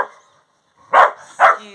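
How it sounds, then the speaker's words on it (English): A dog barks twice indoors, two loud, close, sharp barks about half a second apart after a short quiet stretch. "excuse my dog, Manny."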